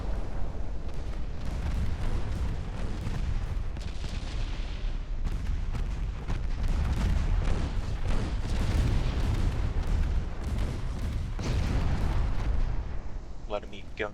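Naval guns firing in a naval battle in Ultimate Admiral: Dreadnoughts, with rolling booms and repeated heavy salvos over a dense low rumble that goes on throughout, loud and close, with faint voices in the background.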